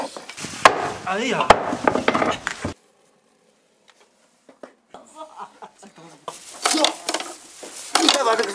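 Lamb ribs being struck apart with a mallet during a large outdoor meat-preparation gathering, heard as loud, close wooden thuds and knocks in bursts separated by a quiet gap, with a brief exclamation.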